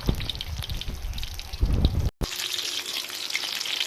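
Oil crackles and sizzles steadily as eggplant and milkfish fry in a pan, with dense popping and spattering throughout and a brief dropout near the middle.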